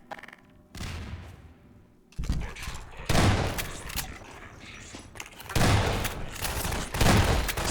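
Shotgun blasts in Half-Life 2 on a City 17 plaza, several loud, booming shots spaced a second or two apart amid other game noise, with some voices in the mix.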